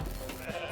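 Goat bleat from the Goat Simulator pinball table in Pinball FX, a short close wavering bleat heard alone.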